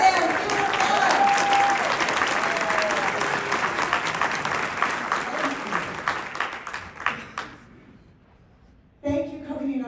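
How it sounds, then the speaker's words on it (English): An awards-ceremony audience applauds a Teacher of the Year honoree with loud, sustained clapping and a few cheers, which taper off over several seconds before a voice begins speaking. "will you please stand and give her applause?"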